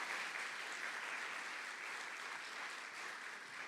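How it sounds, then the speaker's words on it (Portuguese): Sustained, dense applause from a church congregation at an anniversary service, steady and loud throughout the whole stretch with no voices rising above it. "Uma salva de palmas a Jesus"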